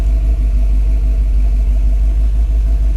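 A car engine idles in a repair shop at low rumble, steady and loud, with a constant deep hum and no voices.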